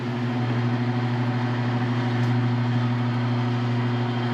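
Atlas TC 589X tire changer turning a wheel during tire removal, a steady low motor hum with a constant tone, fairly faint and unbroken throughout.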